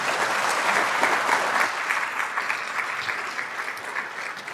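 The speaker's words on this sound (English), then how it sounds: "Let's give one more round of applause for our professionals." Audience at a health symposium keynote claps steadily and fairly loudly for several seconds, a dense wash of applause that slowly thins toward the end.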